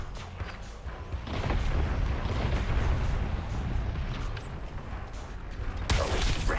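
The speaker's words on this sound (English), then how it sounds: "The cannon is deploying its beam weapon." Dense, sustained rumbling booms and blasts from a cannon's beam weapon in the Suicide Squad: Kill the Justice League video game, a continuous loud barrage with a sharp burst near the end.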